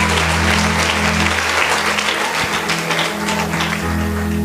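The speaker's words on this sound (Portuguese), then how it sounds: "os que podem, tomem o seu assento aplaudindo a Jesus" A church congregation claps together in steady, dense applause at a Pentecostal service, broad and sustained over a low organ or keyboard hum.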